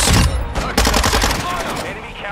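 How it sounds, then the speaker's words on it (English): Rapid bursts of video game gunfire, dense and loud, crackling in close succession over a busy game soundtrack for the whole stretch. "I'm getting shot at, that's awesome"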